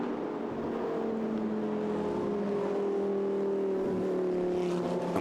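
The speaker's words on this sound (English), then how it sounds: "And the cars continue, as is the tradition, to make this fabulous noise." Lamborghini Super Trofeo race cars circle the Monza circuit, a sustained engine drone with tones that slowly fall and shift as the cars pass at a distance, with no voices.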